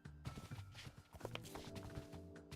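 Horses in the Minecraft video game clip-clop with soft hoof steps and faint snorts under game background noise, fairly quiet, with no talk.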